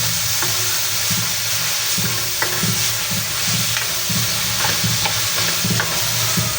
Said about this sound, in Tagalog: Gisa-gisa lang po, gisa-gisa. At yung ating kamatis.